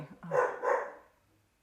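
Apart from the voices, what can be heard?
dog barking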